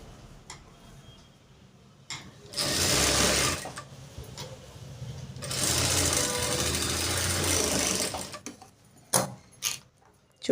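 A sewing machine stitches a blouse in two long, loud, rapid whirring runs, separated by quiet pauses filled with small ticks and clicks of handling the fabric and machine.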